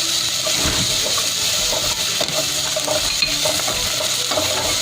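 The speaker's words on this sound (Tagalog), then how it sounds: "let's put this onion leek, but not all. Just half of this, and just saute it." Onion and leek sautéing in a pan for a Korean spicy soft tofu stew, giving a steady loud sizzle with small stirring clinks and scrapes throughout.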